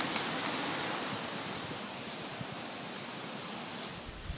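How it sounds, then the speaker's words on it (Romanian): Strong wind gusting across a campsite in Corsica, a steady loud roar of broadband rushing noise buffeting the microphone without pause, with no talk. "Îmi bate un vânt aici, mâncăm pe furtună de vânt."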